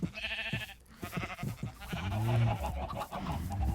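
Minecraft sheep bleating, a wavering baa rising clearly over game sounds and background noise near the middle, with other short tonal sounds around it, fairly loud and close.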